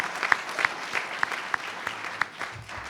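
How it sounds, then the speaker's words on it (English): An audience applauds after a speech, a fairly quiet, scattered round of clapping with distinct individual claps standing out over a soft crowd wash. "I want one more round of applause for the other 4 candidates."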